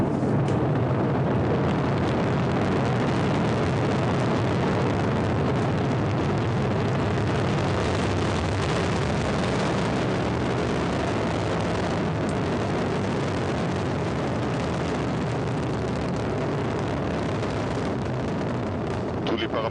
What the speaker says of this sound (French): The Ariane 5 ECA has roared into the skies above Kourou.